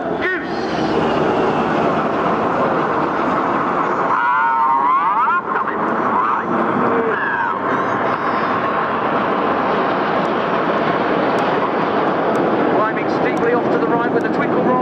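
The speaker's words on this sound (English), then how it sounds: "Here comes a lone jet. This is Red 9." A Red Arrows RAF display jet, the lone Red 9, flies past at a seaside air show in Clacton-on-Sea, Essex, its loud, steady roar sustained throughout while a commentator talks over it.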